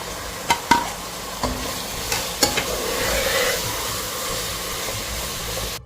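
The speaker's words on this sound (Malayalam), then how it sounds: "ചെറുതായിരുന്നു ചിക്കൻ പീസ് നന്നായിട്ട് ഇളക്കിയെടുക്കാം" Small chicken pieces are stirred in a pan with coriander leaves for creamy chicken pasta, a steady frying sizzle underneath a few sharp spatula knocks and scrapes near the start.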